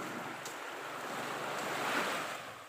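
Ocean waves wash up onto a white-sand beach in a soft, continuous surf. The quiet wash swells slightly midway and is heard alone, with no voices.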